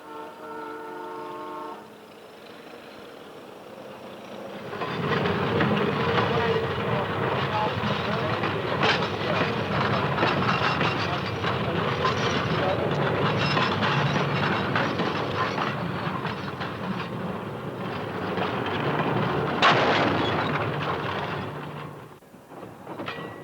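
Freight cars bound for the Maritimes hauled through a rail yard to make up train 406, a loud steady rumble of rolling wagons with clanking and a horn-like tone, rising after a quiet start and continuing to the end.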